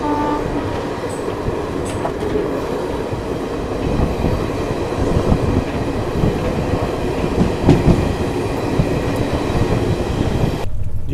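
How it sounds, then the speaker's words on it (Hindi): A Garib Rath Express train gathers speed as it leaves a station platform, making a loud, continuous rumble with rattling carriages and faint wheel clatter throughout. "प्लेटफॉर्म में ट्रेन ने अच्छी खासी रफ्तार पकड़ ली है।"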